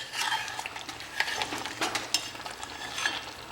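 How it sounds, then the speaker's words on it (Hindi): Masala for a spicy mutton curry cooks in a pot, with steady frying sizzle and repeated scraping, clinking stirs of a spoon against the pot's metal sides, close and continuous with no talking. "मसाला पक रहा है।"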